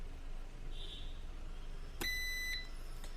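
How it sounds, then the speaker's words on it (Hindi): A UPS unit gives a single short electronic beep as it is switched on by shorting the switch pins, heard once over a steady background hiss with a faint later click. "जब एक बीप ये कर दे तो इसको आप हटा सकते हैं"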